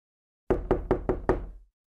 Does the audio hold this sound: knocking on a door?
yes